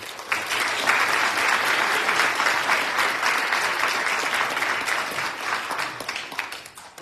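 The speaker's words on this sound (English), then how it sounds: "I think a round of applause." A church congregation applauding during a Sunday morning service, a dense, steady round of clapping that fills the room before tapering off at the end.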